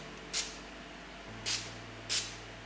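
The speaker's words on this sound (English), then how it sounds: "I'm just going to be spraying my brush with a little bit of BH Cosmetics Makeup Setting Spray" Three short, soft hissing spritzes of makeup setting spray from a pump bottle onto a brush, evenly spaced and close by, over a quiet background.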